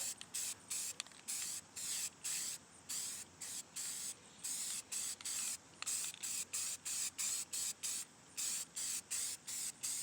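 Rust-Oleum coating sprayed thickly from an aerosol can onto the underside of a Mk4 VW GTI, heard as a steady run of short hissing bursts with brief pauses between, close and fairly loud, with no talking.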